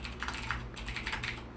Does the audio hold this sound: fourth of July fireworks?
no